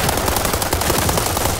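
M416 assault rifle fired from the hip with a red dot sight in World War 3, a rapid continuous burst of loud, close gunfire rattling without pause and no voices.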